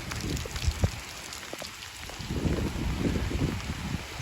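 Heavy rain pouring outdoors where vegetables are grown, a steady dense hiss of drops hitting surfaces with scattered louder splatters and patters throughout.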